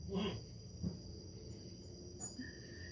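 Steady crickets chirp through a quiet late-summer evening, a constant high trill running the whole time, with a few soft background bumps and no talking.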